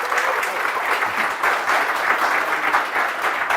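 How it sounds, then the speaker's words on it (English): A large audience at a startup accelerator demo day applauds, sustained dense clapping that fills the room steadily without a break, loud and close. "please, everybody, another round of applause for our CEO and our Chief Acceleration Officer"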